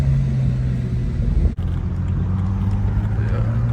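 A tuned BMW 335i with an N54 engine on an MHD stage 2+ tune rumbles with a steady low drone, broken by a brief dip partway through, then settles back into an even, close idle.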